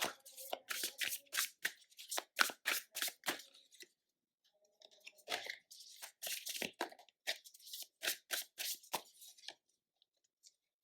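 Tarot cards shuffled and drawn by hand in two bursts of quick, crisp riffling and snapping strokes, close and fairly quiet, separated by a short pause and ending in a few faint taps.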